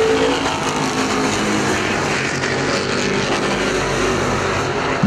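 Street stock race cars roar around Perris Auto Speedway in a main event, a dense, steady engine drone from a field of cars at a dirt oval, loud and continuous, with no talking.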